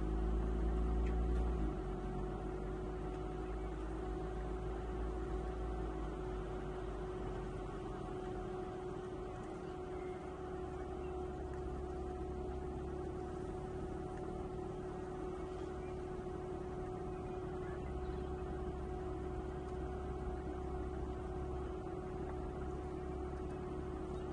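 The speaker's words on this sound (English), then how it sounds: "flat 6 engine, it has a really beautiful exhaust note, really fantastic, and it has the sports exhaust too, which only enhances the sound." Porsche Boxster RS60 Spyder flat-six with sports exhaust cruising, a steady engine hum and road roar running evenly throughout, with a brief louder low burst at the start.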